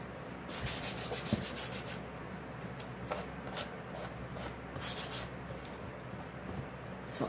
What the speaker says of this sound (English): Most times when I am sanding, I kind of am more deliberate.